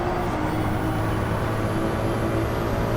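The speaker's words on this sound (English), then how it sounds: "The brakes you are hearing is from the sound of Max Verstappen." Brakes on Max Verstappen's race car as it slows hard on the Nordschleife, heard from onboard. A dense, steady roar with a constant hum underneath lasts the whole three seconds.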